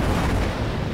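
A missile explosion in the Squadron 42 space combat game, a loud, dense roaring blast sustained across a short burst with no voices.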